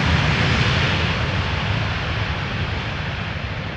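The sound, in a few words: Ryanair airliner landing on a damp runway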